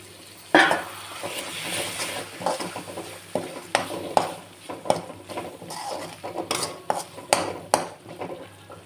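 Potato gravy paste fries in a pan, its sizzle broken by repeated rhythmic scrapes and clacks of a spoon against the pan, loud and close, with a sharp clatter at the start.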